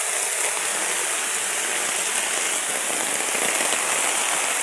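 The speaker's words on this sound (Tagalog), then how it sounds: "Sobrang lakas ng ulan, guys." Heavy rain pours steadily on surfaces outdoors near a flooded canal and rice field, a dense, continuous roar of drops, loud and close, with no pauses.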